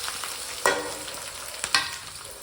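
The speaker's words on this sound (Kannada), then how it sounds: "ಇವಾಗ ಆಲೂಗಡ್ಡೆ ಪಲ್ಯಕ್ಕೆ ಒಗ್ಗರಣೆ ಹಾಕೊಳಾಗತ್ತೀನಿ" Spices for an Indian potato palya curry crackle and sizzle steadily in hot oil as they temper, with two sharper bursts as they are stirred.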